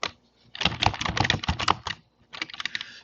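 Rapid bursts of typing on a computer keyboard while entering Cisco router configuration commands for SSH, a steady run of close clicks with a short pause before a second burst, no talking.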